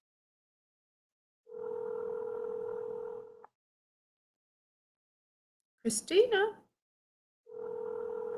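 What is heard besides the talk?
telephone call ringing unanswered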